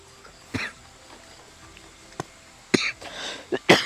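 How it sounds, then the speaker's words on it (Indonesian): A man coughs several times up close, with short, sharp, separate bursts spaced over a few seconds and quiet room noise between them, the last coughs coming in a quick pair. "Mohon maaf, saya batuk."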